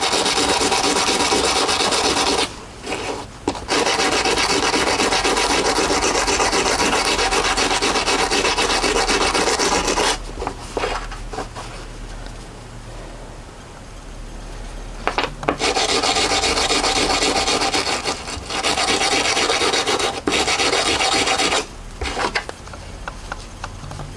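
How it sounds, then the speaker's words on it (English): A brass brush scrubs old grease off a lower pillion peg part from a Honda CB1300 / Blackbird XX motorcycle, giving steady close raspy strokes in long bursts broken by brief pauses. "may as well give it a clean while we're here. Brass brush again."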